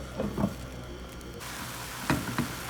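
Tomatoes frying with spices in a pan for an Arabian-style breakfast, a soft continuous sizzle and patter with a few louder stirring scrapes and bursts near the start and end.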